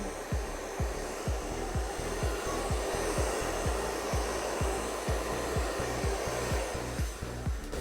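A hair dryer blows acrylic paint across a canvas in a Dutch pour, giving a close, steady, loud whirring rush with a faint repeating pulse throughout, and no voices.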